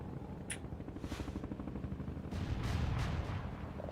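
An artillery barrage in World in Conflict strikes its target, a string of booming explosions and rapid gunfire-like cracks that grows louder and more rumbling toward the end.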